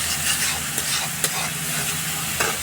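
Spiced egg and eggplant curry stirred in a pan, a continuous close sizzle with a few soft scrapes and knocks of the spoon against the pan, no voices.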